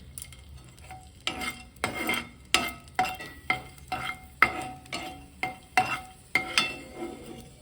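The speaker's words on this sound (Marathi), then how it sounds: "मी डिंकही छान भाजून घ्यायचं आहे" Edible gum (dink) roasting in a pan for ragi ladoos, heard as a steady run of sharp scraping stirs against the pan, about two each second, close and fairly loud, with no talking.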